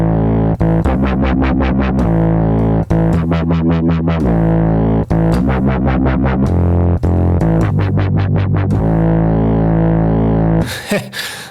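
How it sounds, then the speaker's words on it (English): A synth bass line in Reason 6 runs through the Pulverizer effect set for heavy dirt and squash, producing a loud, gritty, compressed bass riff with rhythmic pulsing filter sweeps, alone and ending in a brief noisy burst. "I have chosen these settings, a lot of dirt and a lot of squash, and it sounds like this now."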